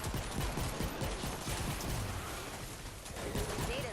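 Candy corn LMG firing in Fortnite Save the World, a dense, continuous stream of rapid gunfire with busy game effects layered over it, sustained and loud throughout.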